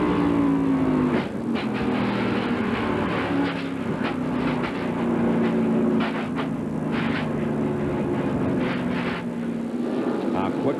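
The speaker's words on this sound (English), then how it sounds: "Now let's listen and watch from the onboard of Rusty Wallace" Onboard audio from a NASCAR race car at the 1997 Southern 500, a continuous loud engine drone with shifting pitch as the car laps, the roar of other cars layered in, and faint commentary voices beneath.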